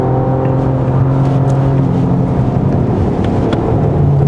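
A 2020 Porsche Panamera 4 e-Hybrid engine in Sport Plus mode on a winding road, a loud, steady, close engine drone with a strong low hum and no talk over it.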